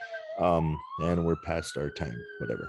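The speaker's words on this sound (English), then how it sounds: "That was a siren." A siren wails steadily behind people talking, its rising tone faint but continuous under the voices.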